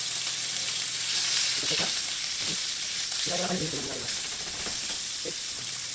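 Beef steak sizzles in a frying pan with a constant bright hiss, close by, while brief bursts of voices and clatter come and go over it.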